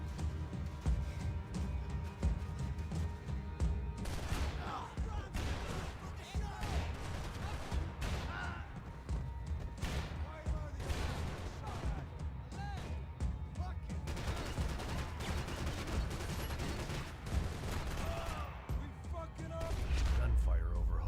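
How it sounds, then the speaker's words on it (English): Rapid bursts of gunfire in Max Payne 3 crackle repeatedly over a constant low rumble, with scattered shots and volleys continuing throughout, fairly distant and mid-level in loudness. "Gunfire over Hoboken."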